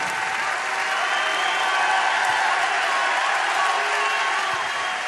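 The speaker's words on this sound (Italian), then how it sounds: "fate arrivare a casa della gente l'applauso da Padova" A large crowd applauds steadily in the Pala Geox arena in Padova during a Lega Nord party event, producing dense, even clapping with faint cheers that hold at a constant level throughout.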